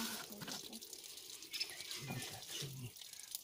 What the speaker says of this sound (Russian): Вода вытекает.